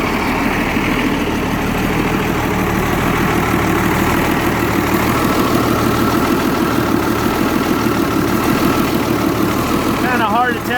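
An M109 engine idles with a steady, loud low rumble, smoking and leaking oil after sitting unused, its drone continuous and close throughout.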